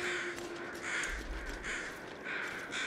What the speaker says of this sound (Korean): 세상 천지에 다 까마귀야